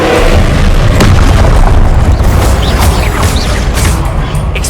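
A Confringo fire-blast spell explodes in a Harry Potter wizarding video game, a loud, dense boom with crackling bursts that stays roaring and sustained throughout, no voices over it.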